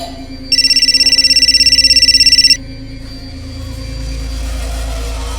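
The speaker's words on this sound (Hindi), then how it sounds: "पापा आपका फोन बज रहा है।" A phone rings with a rapid, trilling electronic tone for about two seconds, then stops, leaving a low background rumble.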